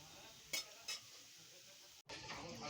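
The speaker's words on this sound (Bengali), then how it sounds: "এবারে আমি কোপ্তাগুনি একটু নাড়াচাড়া করে আমি কোপ্তাগুনি এবার তুলে রেখে দেবো।" Cabbage koftas sizzle softly in a pan of oil, with two brief scraping clinks of a spatula being stirred and a short break before the quiet frying hiss resumes.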